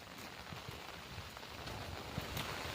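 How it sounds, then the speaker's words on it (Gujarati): Light drizzle falling over a canal, a soft, even hiss of rain with faint scattered drops and a touch of wind, steady and low in level. "તમે જોઈ શકો છો વરસાદ કેવો પડી રહ્યો છે, ઝરમર ઝરમર."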